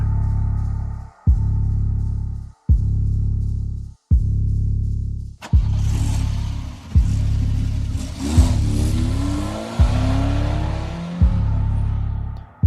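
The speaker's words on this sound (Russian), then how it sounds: "Звук мотора уезжающей машины запустил отсчет времени." A car engine in the video game Banebush revs through repeated gear shifts, surging and cutting out in a steady rhythm, then rumbling on with a rising whine as it pulls away.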